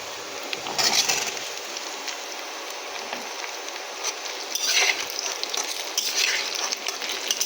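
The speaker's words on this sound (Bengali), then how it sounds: "আলুটাকে দিয়ে একটু নেড়ে ছেড়ে নেব।" Potatoes stirred as they fry in a pan for a Bengali barbati and fish-head chorchori: a steady close sizzle with scraping stir strokes swelling at intervals, no talking.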